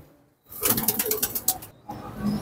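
A recovering pigeon coos close by in a short burst with some rustling, followed by a softer low coo near the end.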